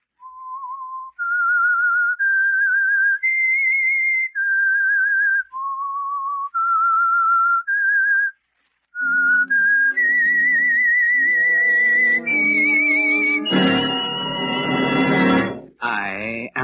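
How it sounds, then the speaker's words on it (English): The Whistler radio show theme whistled as a clear, eerie solo melody of sustained notes with brief pauses, then joined by orchestral music swelling into a loud chord near the end. "That whistle is your signal for the Signal Oil Program"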